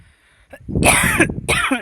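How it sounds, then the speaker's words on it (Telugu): A few rough coughing, throat-clearing bursts close to the mic: a short catch, then a longer harsh hack and another right after, loud and alone. "మళ్ళీ దగ్గు వస్తుంది"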